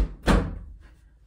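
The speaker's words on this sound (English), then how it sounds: "I'm gonna close my door really quick." A bedroom door is pulled shut with a single dull thunk close by, followed by a soft fading rattle in a quiet room.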